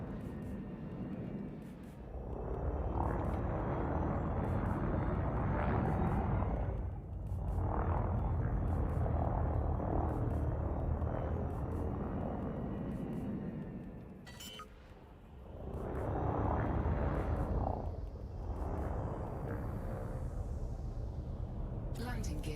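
Spaceship in the game Elite Dangerous descending to land, a steady low engine rumble and whoosh that swells and dips in long waves, with a brief quieter stretch before a rising hum near the end; a voice talks over parts of it.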